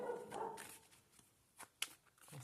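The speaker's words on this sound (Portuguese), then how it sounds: "o cachorro vai latir agora" A dog barks in a room, a few short, faint, scattered barks and yips with some background noise and no talk.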